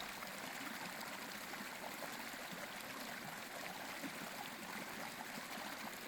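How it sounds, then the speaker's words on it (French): A river flows steadily with a soft, continuous rush of water, even and unbroken throughout, fairly quiet and with no voices. "Il y avait une rivière, dans cette rivière vivait une tortue."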